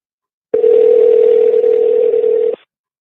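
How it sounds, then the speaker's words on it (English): A telephone dial tone sounds while a call is placed to Portland: one steady, loud, unbroken tone holds for about two seconds, then stops abruptly and leaves silence. "Calling all over the country. Looking for someone to pick up their phone."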